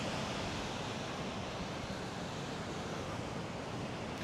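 Rough ocean surf rolls in at My Khe Beach in Da Nang during the rainy season, a steady, close wash of broadband wave noise with no voices and no break for the whole stretch.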